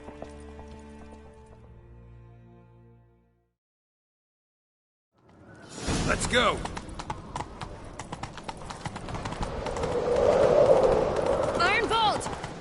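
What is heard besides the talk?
horse galloping, from a video game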